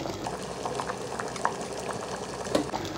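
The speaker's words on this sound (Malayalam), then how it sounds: "എല്ലാം കൂടി നന്നായി തിളച്ച് വരട്ട്." A pot of chickpea and tapioca curry bubbles at a steady boil up close, with continuous gurgling and scattered louder pops; no voices.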